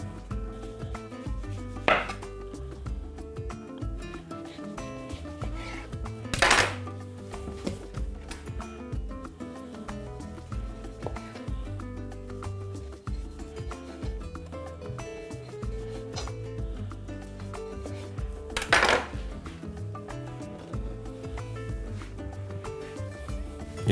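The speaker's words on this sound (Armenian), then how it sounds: "Եվ կտրատում խորանարդիկների։" Half a peeled orange is cut into cubes with a knife on a board for a chicken breast dish, giving scattered soft chopping taps and a couple of sharper strikes over a steady low background.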